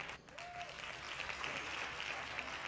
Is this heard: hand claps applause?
yes